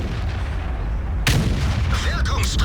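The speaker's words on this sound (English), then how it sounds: "Great derp shot into the J Panther." A loud gunshot boom from the derp gun of a Waffentrager auf Pz. IV tier 9 German tank destroyer in World of Tanks, a single sharp blast midway through, ringing over steady game background noise.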